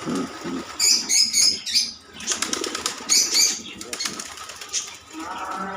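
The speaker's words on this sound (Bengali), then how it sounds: "দেখেন খাঁচার মধ্যে টুপি জাত টুপি এলা কবুতর দেখেন আপনারা" Tupi breed pigeons in a cage beat their wings in several loud, close bursts of flapping, separated by short pauses, with faint chirps in between.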